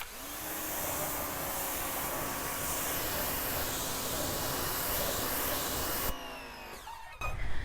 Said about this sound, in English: I changed my spray nozzle to be a 40 degree, and we are going to first wet down these wheels